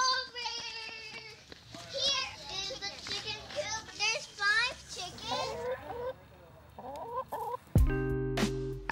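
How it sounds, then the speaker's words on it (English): Chickens cluck and squawk among children's chatter and shouts, lively and close, ending with a sudden loud burst. "Here is the chicken coop. There's 5 chickens."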